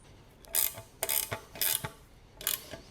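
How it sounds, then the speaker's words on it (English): A 10mm ratchet tightening a nut on a Triumph Daytona's front LED indicator, with several short bursts of clicking strokes separated by brief pauses, close up and fairly quiet. "So I just take my 10mm and I will just tighten this up."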